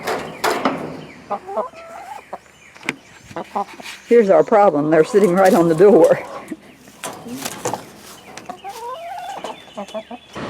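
Chickens cluck and squawk nearby, with a loud burst of agitated calls in the middle, while a person talks over the flock.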